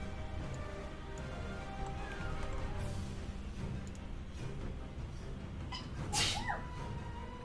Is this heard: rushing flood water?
no